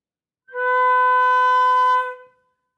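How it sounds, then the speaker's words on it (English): A single clear flute note, held steady for about a second and a half and then fading out, alone in silence. "first notes on the flute"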